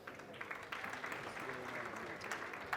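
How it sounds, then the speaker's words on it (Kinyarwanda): Clapping from an audience at a comedy show, steady and fairly dense for under three seconds, with a swell toward the end. "tugikomera amashyi"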